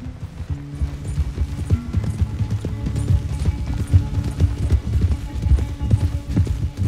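Rapid, rhythmic hoofbeats of a galloping horse in Red Dead Redemption 2, steady and fairly loud, set against a low game soundtrack.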